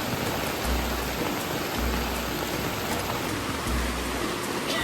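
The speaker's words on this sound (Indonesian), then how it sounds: "Di sini hujannya lumayan deras, sampai-sampai airnya tertampung di bawah flash sheet." Heavy rain pours onto a flysheet tarp shelter in the wild, a dense, loud, unbroken hiss of drops with a few low thumps at regular intervals and no talking.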